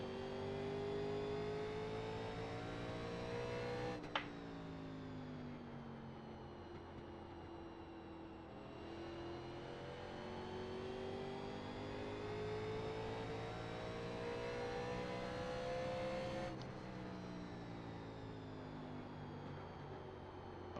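A NASCAR Legends race car in iRacing laps Richmond, its engine droning loud and continuous, rising and falling in pitch through throttle changes, with two sharp drops where the driver lifts.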